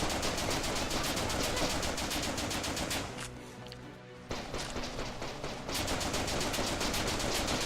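Sustained rapid video game gunfire from a weapon in The Legend of Alfur, loud and dense, with a brief lull partway through before the shooting resumes at full intensity.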